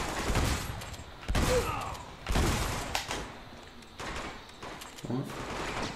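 Heavy shotgun blasts in Uncharted 2: Among Thieves come as several loud, separated booms about a second apart, mixed with game noise and overlapping player talk.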